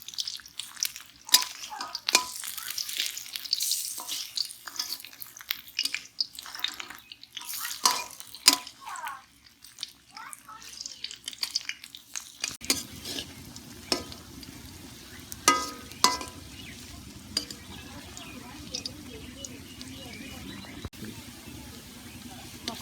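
Water lily flower pakoras flipped in hot oil: irregular clicks and scrapes of a utensil over a bubbling fry, with a steady sizzle in the second half and someone talking intermittently.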